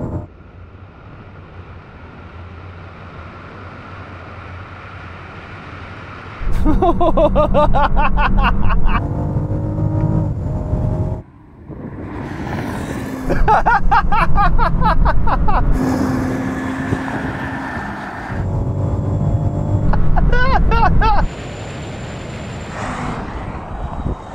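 A Rolls-Royce Wraith and a Bentley GT accelerate hard in a drag race, their engines roaring loud and close in long surging bursts that climb in pitch, broken by brief dips at gear changes.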